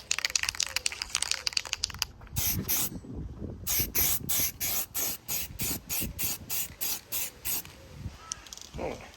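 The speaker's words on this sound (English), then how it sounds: "So what I might just do is like a layer of primer on and see what it's like. Plastic primer." Plastic primer hisses from an aerosol spray can in a series of short, even bursts with brief gaps between them, close up, as parts for a 2022 Ducati Hypermotard 950 SP are coated.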